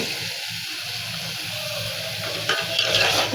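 Prawns and sweet pumpkin being stirred in a frying pan, a steady close sizzle under a spatula scraping and turning the food, with the stirring growing louder near the end.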